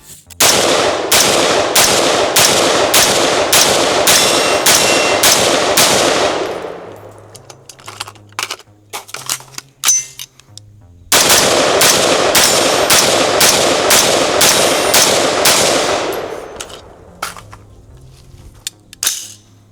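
Hi-Point HP-15 AR-15 rifles fire at a shooting range in two long strings of rapid, evenly spaced, loud close shots, each string followed by scattered clanks and metallic handling noises.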